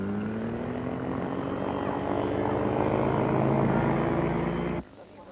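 Steady loud drone of a propeller aircraft fitted with new wings at a 12,200-foot landing strip near Namche Bazaar, Nepal, a sustained engine hum with a strong low tone that cuts off abruptly near the end.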